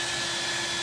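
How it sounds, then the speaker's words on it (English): A hair dryer blows with a steady, loud whooshing roar, unbroken throughout the short stretch. "I'm gonna have to turn on my hair dryer, sorry y'all, and dry that a little bit"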